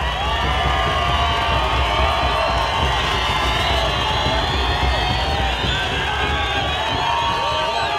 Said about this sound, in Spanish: Antonio Villalón, quien recibió una merecida ovación y un homenaje de su querida afición.